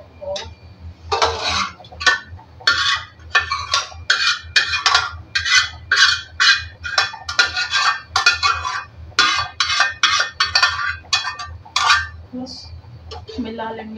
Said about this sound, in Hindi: गैस पर रख देती हूँ कुकर।